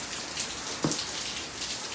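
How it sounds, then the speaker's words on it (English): Steady rain falls outside a garage, a continuous close hiss of drops on a surface with a couple of brief louder splats and no one talking. "As you can tell, it's raining outside"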